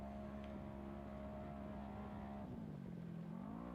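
A naturally aspirated UTV off-road racer runs hard in a Baja Nevada desert race, its engine a steady, buzzing drone at high throttle that dips in pitch and then climbs again toward the end, heard from a distance.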